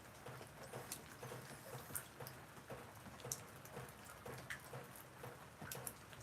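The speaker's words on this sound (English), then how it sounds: "just listen to the rain, man" Rain falls outside, a very faint, steady patter of scattered drops heard alone, with no talking.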